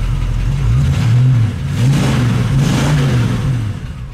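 A 1966 Ford Mustang Fastback V8 idles loudly up close with a lumpy, rhythmic rumble that rises and falls slightly, and a faint ticking lifter chatter runs underneath.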